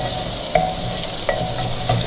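Onion fries in ghee for a mutton handi, a dense steady sizzle with a spatula stirring and tapping the pot about three times, close up and with no voices.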